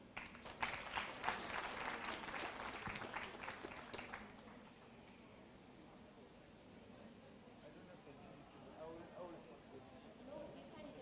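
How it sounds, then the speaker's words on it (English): Audience applause at a community anti-fraud and corruption gathering, a burst of clapping for the first few seconds that fades into room murmur and distant talk. "And you can give them a round of applause."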